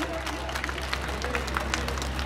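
An audience claps together at an exhibition event in Jagtial, a dense, steady patter of many hands, moderately loud and close, with some crowd voices mixed in.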